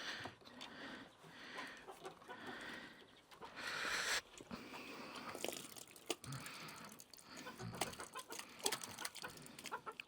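Chickens and a rooster cluck through spring feeding in a coop, a steady, busy stream of close clucks and scratching with no talking.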